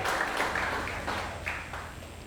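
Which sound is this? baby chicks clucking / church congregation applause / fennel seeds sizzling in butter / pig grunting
church congregation applause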